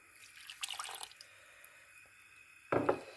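Water poured into sugar in a home kitchen for syrup, faint trickling and dripping in short bursts with a stronger splash near the end, close and quiet.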